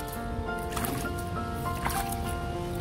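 Water is poured by hand over a tulsi plant, giving soft wet squishing, splashing and dripping sounds up close, with faint background noise.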